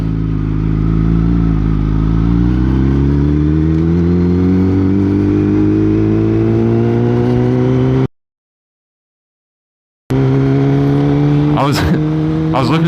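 A motorcycle engine drones loudly and steadily close up while riding, its pitch rising and falling with acceleration, cutting out briefly to silence before resuming with wind noise; a rider talks over it.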